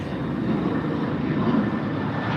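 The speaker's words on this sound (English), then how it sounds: "You can hear the planes. We're at LAX." Jet airplanes roar steadily in the distance at LAX airport, a broad continuous engine rumble with no voices, like an aircraft taxiing or taking off nearby.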